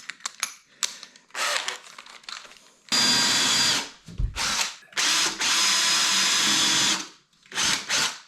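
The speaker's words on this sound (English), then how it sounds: "I was drilling into here" A power drill whirring in several short bursts and two longer runs while drilling a recess into an insulated plasterboard wall, with bits of grinding and clattering between them, no voices.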